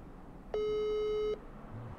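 A single steady telephone tone sounds on a call to Moscow that goes unanswered, a clean electronic beep under a second long standing out against faint background hiss.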